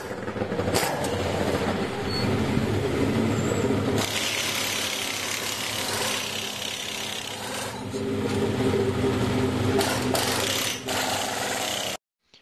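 Continuous workshop ambience of men working on a car, with steady rasping, rubbing and scraping of tools and metal, occasional knocks and clunks, loud and close throughout, no speech.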